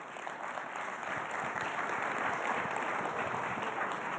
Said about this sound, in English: A warm applause for Jan, please